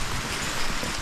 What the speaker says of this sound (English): today it's rainy